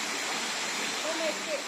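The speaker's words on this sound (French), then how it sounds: "j'en profite pour vous montrer le haut de la cascade" Khun Si waterfall on Koh Samui pours as a dense, constant, even rush of falling water, filling the scene at a steady level with no break.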